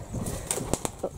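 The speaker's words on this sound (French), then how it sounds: "Hop, c'est un oiseau." A bird flaps its wings inside an abandoned sanatorium, several quick, sharp wingbeats and fluttering bursts close by in a quiet, echoing space.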